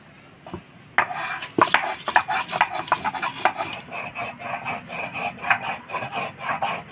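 Ginger, cumin and coriander are ground together by hand, producing a rapid rhythmic rubbing and scraping that starts after a moment of quiet and continues steadily, close up and moderately loud, with no talking.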